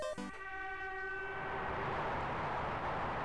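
Horn blast from a bullet train in the Mario & Sonic at the Olympic Games Tokyo 2020 video game, a loud sustained tone that opens sharply and then blends into a swelling rush of the moving train.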